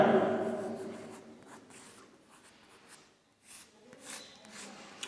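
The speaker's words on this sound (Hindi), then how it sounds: "देखिए, मैं लिखता हूं फिटर।" Someone handwrites the word "fitter" in a short burst of scratchy strokes. The strokes are loudest at the start, then softer and intermittent, close and alone.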